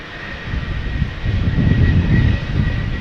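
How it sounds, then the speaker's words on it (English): A KLM Boeing 737-900 departing Amsterdam Schiphol for Copenhagen produces a close jet roar that builds over a few seconds into a strong, rumbling peak, heard alone without speech. "KLM flight 1269 to Copenhagen, 737-900."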